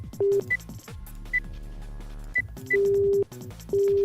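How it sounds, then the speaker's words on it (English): A telephone tone inside the video game Virtue's Last Reward: repeated steady electronic tone bursts broken by short, high beeps over soft background music. "Dial tone."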